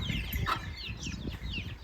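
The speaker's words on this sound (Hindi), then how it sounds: "मुझसे डर डर के तेजी से भाग रहे हैं, उड़ भी जाते हैं ना? हल्के उड़ते हैं, ज़्यादा नहीं उड़ पाते मुर्गे।" Free-range desi chickens flap their wings and scurry off in brief bursts, with soft clucks and rustling feathers close by over a steady outdoor background.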